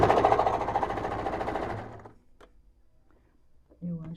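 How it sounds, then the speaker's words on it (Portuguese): A sewing machine stitches viscose fabric for a beach cover-up, running in a loud, dense, steady whir for about two seconds before stopping, followed by quiet room sounds and a brief low hum near the end. "Costurando."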